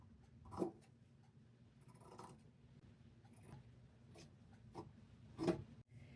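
Scissors snip through thrifted T-shirt fabric along a chalk line, a few quiet, separate cuts with soft scraping between them, close up and unaccompanied by talk.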